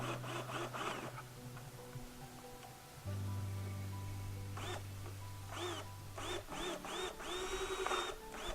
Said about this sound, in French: je vais aller visser mon pot à minéraux, puis en même temps, je vais faire les trous dedans